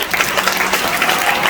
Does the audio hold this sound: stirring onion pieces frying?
no